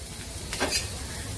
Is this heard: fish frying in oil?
yes